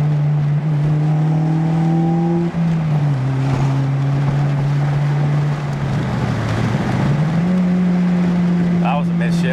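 A Toyota A90 Supra with an aftermarket exhaust drones steadily as it downshifts, its engine note dipping and then climbing back up near the end, with no voices over it.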